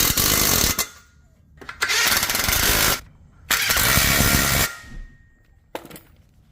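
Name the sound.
impact wrench tightening bolts with a 17 mm socket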